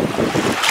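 Strong ocean wind buffets the microphone aboard a trawler boat at sea, a steady, loud roar with waves washing beneath it and no voices.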